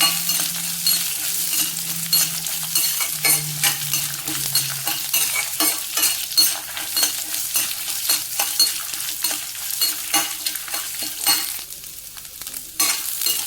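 Sliced large onions frying in a pan for a raw mango dish, a steady loud sizzle broken up by frequent scraping stirs of a spoon against the pan, with no talking.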